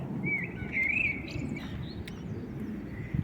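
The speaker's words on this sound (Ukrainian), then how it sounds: "Оці співають і співають, де не їдь скрізь. Співають в Кракові пташки." Small birds sing faintly in short, thin warbling phrases over a low background rumble at a used car lot in Kraków, with a soft click or two.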